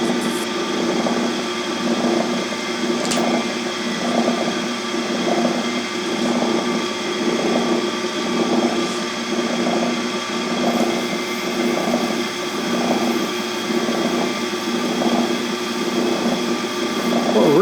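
A metal lathe takes a final cutting pass on the second end of a machined test bar, its steady motor and gear drone holding constant with a faint pulsing hum throughout, close and unbroken.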